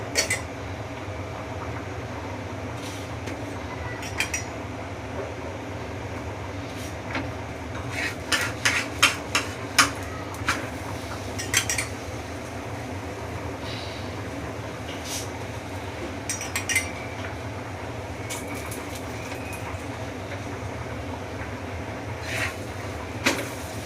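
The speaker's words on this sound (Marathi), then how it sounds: "मी इथे तेलच लावत आहे।" Oil being spread on puran poli cooking on a pan, with scattered metallic clinks and scrapes of a utensil against cookware over a low steady kitchen hum, mostly quiet between sharper taps.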